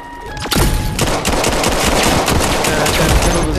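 A gun in the VR shooter Vail VR fires in a loud, rapid burst of shots that begins about half a second in and rattles on continuously, close and dominant, with no talk over it.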